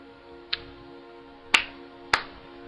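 Hand claps from the Clannad visual novel game ring out as three sharp, separate claps over a quiet sustained musical tone.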